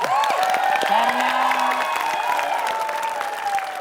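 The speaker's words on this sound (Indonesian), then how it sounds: "Tepuk tangan dulu semuanya dong biar semangat." A television studio audience on a celebrity gossip show claps and cheers, with whoops and high shouts rising over the steady applause.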